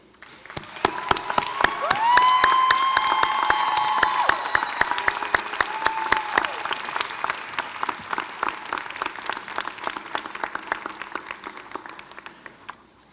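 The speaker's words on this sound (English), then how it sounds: "join me in expressing our appreciation with a standing ovation and a resounding round of applause" A large college commencement crowd gives a standing ovation, clapping steadily for over ten seconds, with cheers and whoops rising early on, then the applause gradually thins out.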